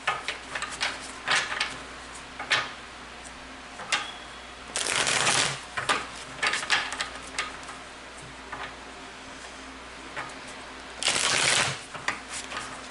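Tarot cards are shuffled and handled up close, with scattered crisp clicks and taps and two longer, louder riffling bursts, in an otherwise quiet room.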